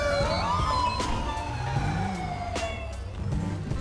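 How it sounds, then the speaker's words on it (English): A police car siren wails in GTA V, a close, loud rising and falling electronic tone that sweeps continuously over low engine rumble. "I guess that's my siren. Let's go and turn that siren off."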